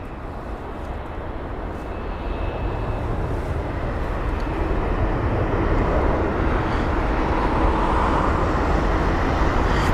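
An Air Canada Boeing 787-9 Dreamliner arriving at London Heathrow from Toronto, a broad jet roar that builds steadily and stays loud and continuous throughout, with no voices.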